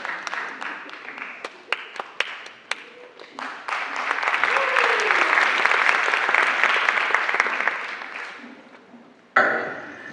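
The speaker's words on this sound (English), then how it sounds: "Everyone, give my husband a round of applause." An audience at a marriage workshop breaks into sustained applause, starting with scattered claps that swell into a steady, dense roar of clapping for several seconds before fading, with a voice resuming at the end.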